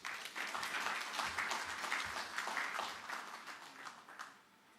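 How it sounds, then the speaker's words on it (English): Applause from an audience at a Meru University of Science and Technology innovation and exhibition week event in Kenya: dense, steady clapping filling the room, loud and sustained, then thinning out toward the end. "Let's give another round of applause to Tom"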